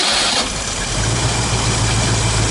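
A cold Ford Maverick V8 engine runs at a steady idle, loud and close, with a low rumble that settles in after a brief start.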